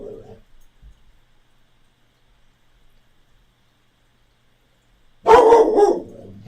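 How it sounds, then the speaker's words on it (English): A dog barks in a short burst at the start, then after a long quiet stretch lets out a louder, sustained run of barking close by while a neighbor plays with it outdoors. "My neighbor's outside trying to play with my dog."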